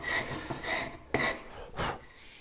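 A hand rasp filing wood, a few quick rough scraping strokes close up, each a short gritty rasp with brief pauses between.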